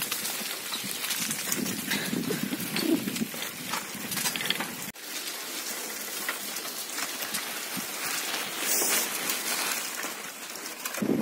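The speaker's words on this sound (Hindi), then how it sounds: "फाइनली मेघ टिके टिके पड़ुछि" Light rain falling in a cashew forest, a steady broadband hiss of drops on leaves lasting throughout, fairly close and even, with no talking.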